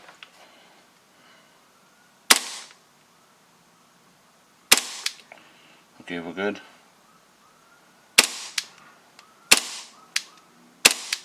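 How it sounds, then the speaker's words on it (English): Taran Tactical Hi-Capa airsoft pistol fires several sharp, loud, close single shots at irregular intervals, with brief mechanical handling noise in between and a short spoken remark. "I'm going to stop shooting for now"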